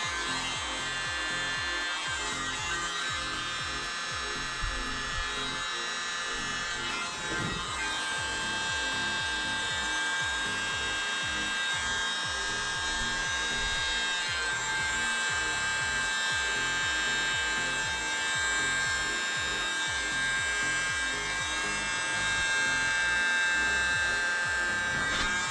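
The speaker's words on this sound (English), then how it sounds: "So to do that, I've got my mini blower" Mini blower with an attachment blowing air into the center of wet poured paint, a steady, continuous high-pitched motor whine and airy hiss held close and loud throughout with no talking.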